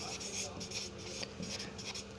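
Marker or chalk scratching on a board in a classroom lesson, short rubbing strokes in quick succession, faint and close, under a low background hum.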